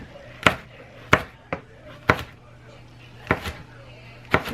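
Knife chopping pepper on a cutting board for a chicken, squash and green bean dish: six sharp, separate chops at uneven intervals over a faint steady hum, with no talking.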